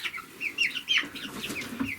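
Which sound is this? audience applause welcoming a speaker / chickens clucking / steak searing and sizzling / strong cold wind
chickens clucking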